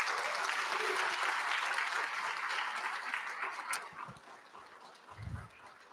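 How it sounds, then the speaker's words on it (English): Steady applause from the audience fills a Purple Ribbon Awards ceremony, dense and sustained before tapering off, with a brief low thump near the end. "Let's give a round of applause."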